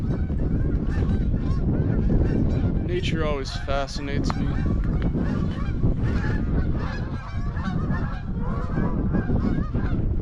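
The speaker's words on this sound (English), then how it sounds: "Those are Canadian geese that come from up north," Dense chorus of Canada geese honking continuously at Lake Erie at sunset, loud and close with many overlapping calls, wind noise throughout and someone speaking briefly over it.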